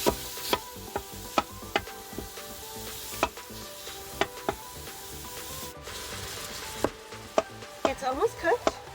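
Meat browns in an Instant Pot and is broken up with a utensil, giving repeated sharp scraping knocks against the pot over a continuous sizzle.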